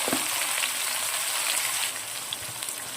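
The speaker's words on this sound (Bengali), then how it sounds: "এলাচ দারচিনি ভাজা হয়ে গেছে দিয়ে দিচ্ছি এক কাপ মতো পেঁয়াজ" A cup of chopped onions goes into oil with fried cardamom and cinnamon for a mutton curry, giving a close, steady sizzle with a few small pops and no talking.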